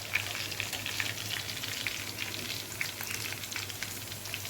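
Garlic frying in plenty of oil in a pan, a continuous close crackling sizzle with scattered tiny pops, steady and unbroken with no voices.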